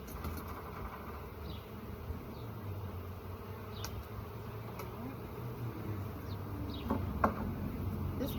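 Honey bees buzz at a hive in a steady, low droning hum that holds throughout, fairly faint, with a few brief higher flickers and no talking.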